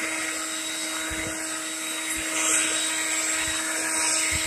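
A leaf blower blows leftover grass clippings off a freshly mowed lawn, producing a loud, steady droning whine with a constant pitch and no pauses, heard close up with no talking.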